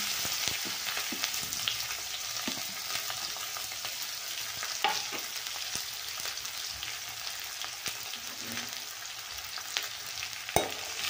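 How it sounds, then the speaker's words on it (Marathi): Onion and curry leaves sauté in hot oil with mustard seeds, giving a constant bright sizzle and occasional light spatula scrapes and taps against the pan, close and moderately quiet, with no talking. "कांदा छान गुलाबी होईपर्यंत आपल्याला परतून घ्यायचा आहे चांगला"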